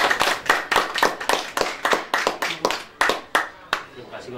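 Hands clap in an uneven, sparse rhythm at a family ceremony, with separate sharp claps from a small group rather than full applause.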